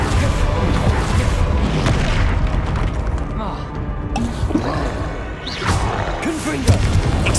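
Confringo blasts in Hogwarts Legacy boom repeatedly during spell-heavy combat, mixed with splashing, crashing effects while a voice keeps calling out spell names over them.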